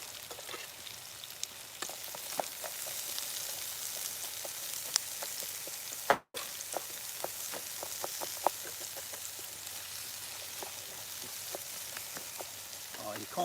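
Onions frying in a pan for a Dansak curry, a soft, steady crackling sizzle with scattered pops, fairly faint and close, briefly cut off once.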